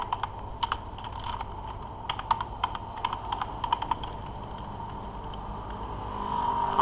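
Typing on a computer keyboard during a Minecraft Windows 10 Beta session: quick irregular clusters of clicky keystrokes, fairly close and clear, with pauses between bursts over a low steady hum, ending in a rising rumble.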